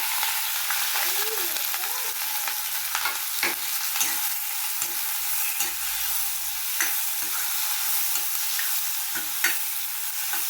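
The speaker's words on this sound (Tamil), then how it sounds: "கொஞ்சம் கடுகு போட்டு தாளிச்சிட்டு கொஞ்சம் ஜீரகம் போட்டு தாளிச்சிருக்கேன்" Mustard seeds, cumin, garlic and green chilies sizzle steadily in hot oil in a pan, a dense crackling hiss with occasional sharper pops and light stirring scrapes throughout.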